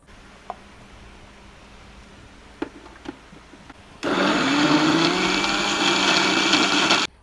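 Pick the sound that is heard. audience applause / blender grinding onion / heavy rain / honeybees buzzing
blender grinding onion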